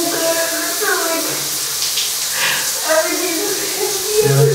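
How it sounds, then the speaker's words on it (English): Shower water runs in a steady, close hiss that fills the whole stretch, with voices talking over the rushing spray. "Yeah, turn the water off. You waste some water."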